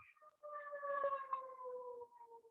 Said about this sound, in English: Wait for the siren to go